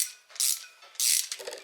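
Two wrenches working on fuel line fittings for an LS engine swap fuel system give two bright, close ratcheting bursts of metallic clicking, separated by a short pause, with fainter clicks trailing off.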